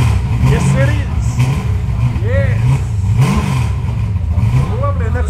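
A loud Ford XW GT muscle car engine with a full exhaust starts, then rumbles and revs in rising, throaty bursts at Summernats 35, with people talking over the deep exhaust growl.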